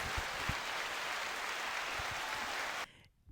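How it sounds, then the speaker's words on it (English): An audience applauds to welcome a guest at a DJ interview, a dense, steady wash of clapping that holds for about three seconds and then cuts off abruptly. "Applause."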